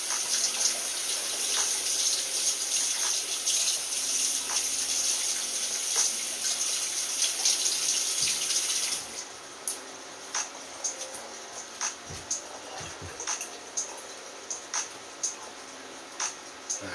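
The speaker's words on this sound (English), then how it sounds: "Give this a rinse to be sure." A kitchen tap runs steadily as a candy pot with old sugar residue is rinsed beneath it. After about nine seconds the water stops, leaving soft, intermittent clatters and scrapes.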